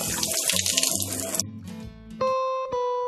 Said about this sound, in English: I'm going to scrub, get my hands nice and clean